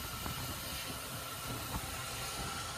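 Venad Express train pulling away near Bharathapuzha on the Shoranur line, a soft continuous rolling rumble with occasional clicks and light hiss, fairly distant and low in level, no voices.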